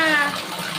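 Tap water gushes into a container as a young child fills it, a close, steady rush lasting under a second.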